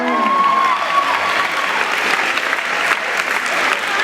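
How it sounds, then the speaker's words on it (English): Women in the audience at a Black Women's Appreciation 2017 address applaud themselves, with loud, full clapping and some crowd noise sustained throughout, and a brief tonal sound near the start. "Give another round of applause for yourselves,"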